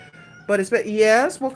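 A house cat meows in a drawn-out, complaining cry lasting about a second, close by, with someone talking just before it and again briefly after.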